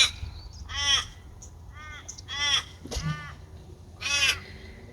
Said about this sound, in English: those are some of the crows here